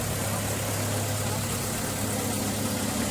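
A fishing boat's engine drones steadily and loudly, a constant low rumble with broadband noise and no voices, on a voyage to Khanderi island.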